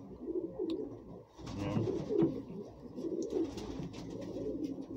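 A blue male racing pigeon in a shared loft coos in low, throaty, repeated phrases close by, with soft rustling and faint chirps from other birds in the background.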